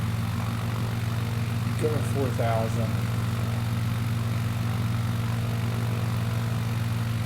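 Propeller aircraft engine in Microsoft Flight Simulator 2020 droning loud and steady throughout as power is raised, with a short radio voice heard briefly over it.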